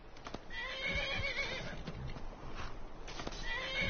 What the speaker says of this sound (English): And of course, my horse